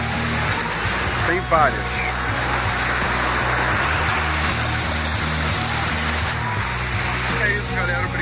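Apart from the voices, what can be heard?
waterfall in Pedra Branca State Park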